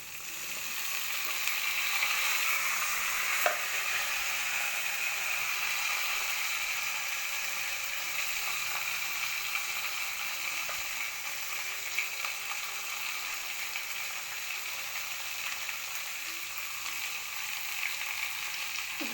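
Cut okra sizzling steadily in hot oil in a pan, with a soft scrape of stirring near the start, the frying hiss continuing evenly and close throughout.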